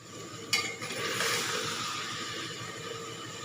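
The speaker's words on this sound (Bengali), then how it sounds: "চিকেনটা একটুখানি এখন ভালো করে মানে ভেজে নেবো আর কি। তেল মশলার মধ্যে একটু ভালো করে কষিয়ে নেব।" Chicken pieces fry in hot oil with spices for a Bengali kacchi chicken pulao, a steady sizzle running throughout with a sharp clink of a utensil against the pot early on and soft stirring scrapes.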